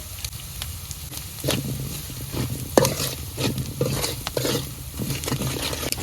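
Salt, turmeric and chili powder sautéing in a pan for a shrimp and taro curry, a steady oily sizzle broken by repeated scraping stir strokes and sharp clicks, with no talking.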